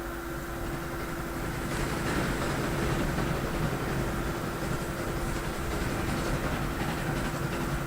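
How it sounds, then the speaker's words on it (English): A train rolls along in the video game Transport Fever, making a steady, even rumble with faint rail clatter and no talk. "run this train back into the depot and add a couple more cars to it"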